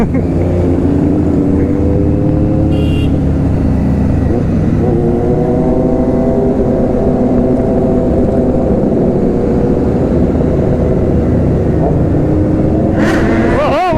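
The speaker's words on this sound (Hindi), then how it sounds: "ओ क्या पटाखे मार रही है भाई, देख रहे हो बैक फायर यहाँ तक दिख रहे हैं" A superbike roars and revs on an open road during a wheelie ride, its exhaust tone rising and falling, with a couple of sharp backfire cracks standing out near the start and end.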